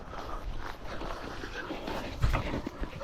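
Working dogs during a ferreting outing make soft panting and breathy whimpering noises amid rustling and a brief thump outdoors.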